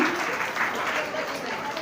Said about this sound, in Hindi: बीना जी के लिए जोरदार तालियां भाई